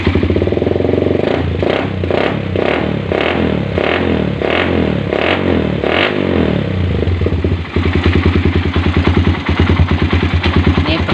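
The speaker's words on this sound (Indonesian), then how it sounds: "saya nyalakan motornya" A Suzuki Satria FU motorcycle engine runs loud and close, pulsing through a series of rhythmic revs before settling into a fast, steady idle.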